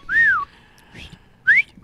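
A person tries to whistle, giving two clear rising-and-falling whistled notes with a short gap between them, close and loud over faint background game sound.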